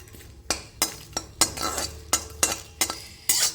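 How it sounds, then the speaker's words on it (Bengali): Dried red chillies and a bay leaf fry in a very hot wok. A spatula clinks and scrapes against the metal about eight times in a steady rhythm over a light sizzle. "শুকনো লঙ্কা তেজপাতাটা একটুখানি ভেজে নেব।"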